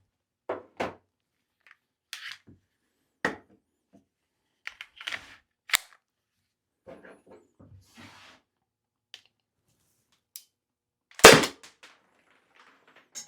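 A Byrna less-lethal launcher fires a string of sharp, dry pops at irregular intervals, with one much louder final shot near the end, each crack short and close against near silence.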